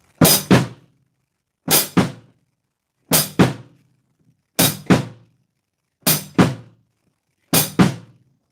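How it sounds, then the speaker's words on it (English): A drum kit plays a flutter lick on hi-hat and bass drum, six evenly spaced two-hit figures, a quieter stroke and then a louder one, played close and crisp with silence between. "you have accented right hand, quiet bass drum, and then a loud bass drum"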